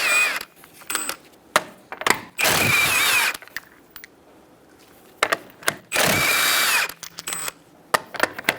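Impact wrench or power drill spinning a 21mm socket on the rear wheel of a 2010-2013 Kia Soul, two loud sustained bursts of about a second each, separated by clicks and clatter of handling the tool and parts.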